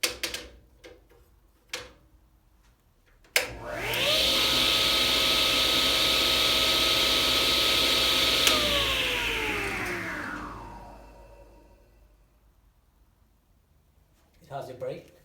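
A CWI-T1002 Stallion 1.5 HP 10-inch cabinet saw switches on with a sudden loud whine, runs at a steady high hum for several seconds, then winds down as the blade slows and stops.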